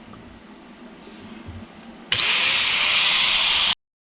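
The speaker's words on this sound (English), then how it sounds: "So just gotta get this 90 cut and then tack weld it on." A power tool cuts a 90-degree bend of exhaust pipe, starting abruptly after quiet shop noise and running as a loud, steady high whine for about a second and a half before stopping.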